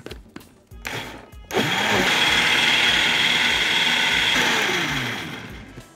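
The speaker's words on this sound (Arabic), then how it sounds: "ونضربهم في الخلاط حلو." After a few short clunks, an electric blender runs loudly for about four seconds, whirring steadily while it mixes cupcake batter of oil, ghee or butter, then winds down.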